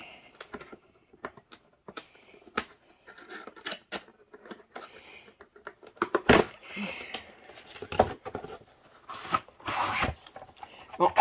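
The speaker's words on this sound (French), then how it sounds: "On va enlever on va couper le ruban adhésif." Adhesive tape on a package is cut and pulled away: scattered small clicks and rustles at first, then several loud rasping rips of tape close by, with no voices.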